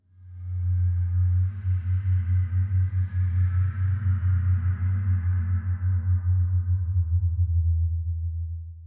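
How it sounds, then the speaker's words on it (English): A recursively rendered reverb effect made in Reaper: a dense, steady wash with a heavy droning low end and a shimmering haze above, pulsing gently and fading at the tail. "And here's another reverb flavor."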